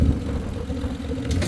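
A vehicle engine idles in snowy cold, a steady low mid-pitched rumble running evenly for the whole moment, fairly close and loud with no other sounds.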